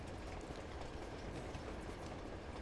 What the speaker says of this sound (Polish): Jedzie pociąg z daleka.